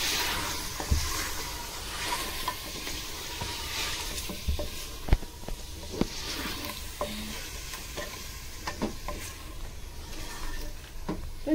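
Mutton and yogurt sautéing in a pan for korma, a steady close sizzle with repeated scraping and stirring clinks of a spoon against the pan, no talking.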